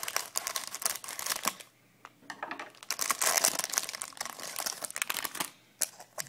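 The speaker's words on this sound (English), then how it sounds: "Let's see if this pack is a little easier to get open this time." A Pokemon Primal Clash card pack wrapper being torn and pulled open up close, with crisp crinkling and crackling foil bursts separated by short pauses, no one speaking.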